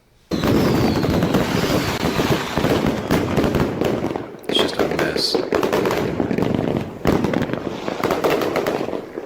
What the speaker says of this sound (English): it sounds like there's a lot of salutes going off